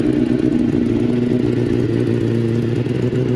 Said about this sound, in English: I need to fire this thing up. Everybody wants to hear what this M4 sounds like.